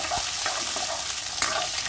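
Onion and ginger sauté in a pan with a loud, dense sizzle, punctuated by a few spatula strokes and scrapes as they are stirred.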